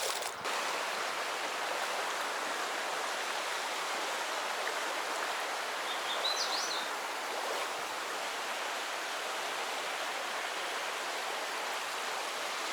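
The Tallulah River flows in a steady, full rushing roar close by, an even broadband water noise that holds unchanged the whole time with no voices.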